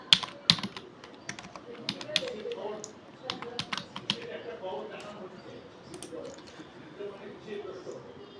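Fingers type text on a computer keyboard while working in CorelDraw, with rapid, clattering close keystrokes that are dense at first and then sparser, and a low voice underneath.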